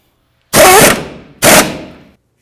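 An impact gun snugs down the outer tie rod nut on a 2000-2007 Ford Focus front end, two loud close rattling bursts about a second apart, each about half a second long.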